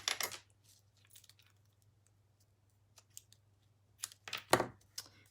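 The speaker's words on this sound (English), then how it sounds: "Get my tape scissors." Tape scissors snipping through tape during a layered craft project, a few short crisp cuts with clicky handling noises between them, close and clear over a faint steady hum.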